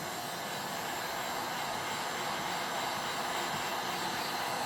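A heat gun warms the bottom end of a Stihl 026 chainsaw, giving a steady, loud broadband blowing roar that holds constant throughout with no pauses or talk.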